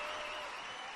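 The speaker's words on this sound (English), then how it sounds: "definitely deserves a round of applause" Applause from a crowd during a live Lakers vs Kings pregame broadcast, a steady dense wash of clapping held at an even level for the whole moment.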